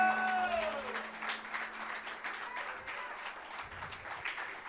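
Applause from a church congregation at a vigil fills the space after a sustained tone fades, a continuous patter of clapping that gradually softens.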